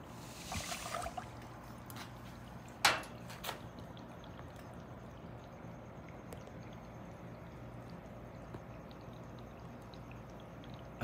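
Paydirt and water are poured into a small, water-efficient clean-up sluice, a brief splashing pour early on followed by a sharper gush, then faint trickling that continues quietly.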